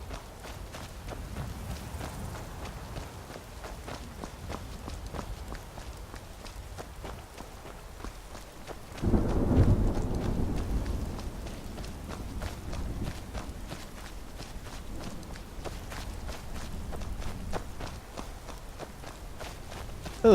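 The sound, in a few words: rainstorm with thunder and footsteps in the video game Skyrim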